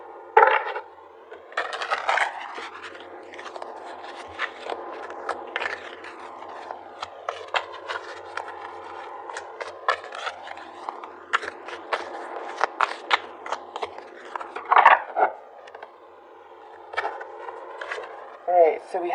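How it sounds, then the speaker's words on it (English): Tarot cards shuffled and drawn from a deck for a reading, crisp papery riffles and light slaps up close in scattered bursts, with a voice talking in between. "let's pull some more cards to see what needs to be healed"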